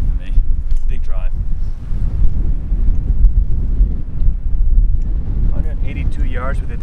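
Strong wind buffets the microphone on an open golf course, a loud, continuous low rumble that never lets up, with brief bits of voices over it.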